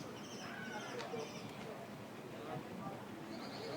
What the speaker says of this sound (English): This bird singing overhead is just one of the sweetest birds I have ever heard in my life.